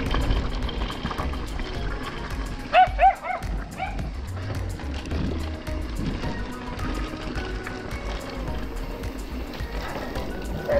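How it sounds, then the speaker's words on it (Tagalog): On a rough, bumpy trail in Jalajala, Rizal, a chasing dog gives a couple of quick sharp barks over a steady rumble of movement, with brief faint talk. "Habol yung aso eh."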